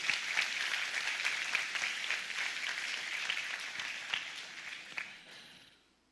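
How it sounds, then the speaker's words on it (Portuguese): A church congregation claps together during a morning worship service in a sustained, dense wash of applause that holds steady for several seconds, then fades out at the end. "Levante suas mãos, aplauda o Senhor nesta manhã"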